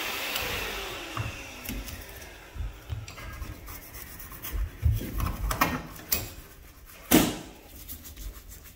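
A toothbrush scrubs a surface in circular motions during a move-out apartment cleaning, making close, irregular rasping strokes that build in intensity, with a louder knock near the end.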